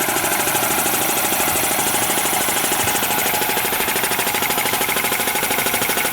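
An old air compressor on rubber cast wheels chugs loudly and steadily nearby, a continuous rapid knocking motor sound as pressure builds.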